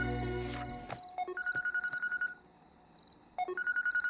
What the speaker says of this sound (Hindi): ये तो दोबारा फोन कर रहा है।